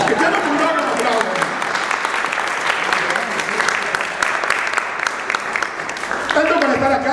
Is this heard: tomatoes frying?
no